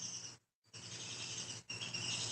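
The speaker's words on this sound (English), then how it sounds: "Can you hear the birds in the background?" Birds chirp outdoors as a dense, high twittering and trilling chorus, faint and distant in the background, broken by a brief gap of near silence.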